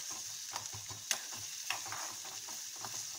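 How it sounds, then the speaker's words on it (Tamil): Onions being sautéed in a pan for an egg bread roll, a soft steady sizzle with scattered scraping clicks from stirring, fairly quiet and close. "வெங்காயம் கொஞ்சம் நல்லாவே வதங்கட்டும்"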